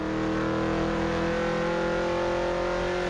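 A V8 ute race car engine roars steadily from on board at Timaru Levels Raceway, New Zealand, loud and droning at high revs, with no voices over it.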